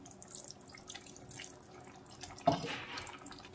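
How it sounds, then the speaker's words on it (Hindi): Water splashes into a pan of masala mushroom curry in a home kitchen, a soft trickle that turns into a brief, louder pour near the end. "इसमें थोड़ा पानी और डालेंगे।"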